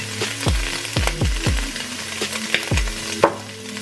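Scrambled tofu fries in a pan as turmeric is stirred in, with a steady sizzle broken by a series of spatula scrapes and knocks against the pan, fairly close and with no talking.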